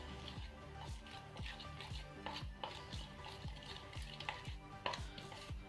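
Slime glue and colorant being stirred in a container, giving a steady series of wet, sticky scraping strokes at a regular rhythm, close and moderately quiet, with no talking over it.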